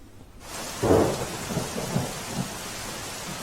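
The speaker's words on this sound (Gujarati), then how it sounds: "વલસાડ જિલ્લામાં અવિરત વરસાદ વરસી રહ્યો છે" Steady heavy monsoon rain hisses throughout in Kaprada, Valsad district, Gujarat, with a low rumble of thunder swelling near the start and smaller rolls following.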